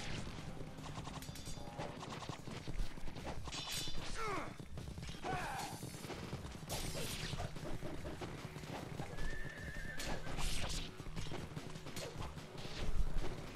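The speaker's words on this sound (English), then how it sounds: "Just kick the damn horse." Horse neighing and whinnying with clip-clop hooves in the action game Ninja Gaiden Sigma, amid clashing combat effects and crashes, loud and busy throughout.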